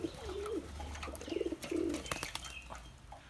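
Homer pigeons coo softly in a loft, with several low warbling calls and a few light clicks and flutters nearby, fairly faint overall.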